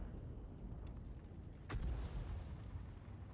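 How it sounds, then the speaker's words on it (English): A single tank cannon shot in World of Tanks fires from an Object 257 tank, a deep boom with a sharp crack near the middle over a steady low rumble. "That's another blind shot."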